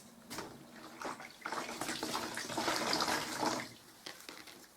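Warm soapy water sloshing and splashing as it is worked into carpet with a damp cloth to lift water-based paint, a continuous wet swishing and dripping with short pauses between bursts.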